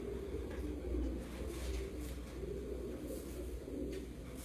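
Pigeons on a Punjabi rooftop loft coo in soft low murmurs, a steady layered cooing that runs throughout at close range with no talk over it.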